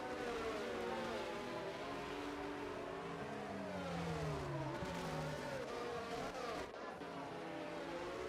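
Race car engines during a Bahrain Grand Prix in a racing game, with rising and falling pitches of several cars accelerating and passing at moderate distance, fairly faint.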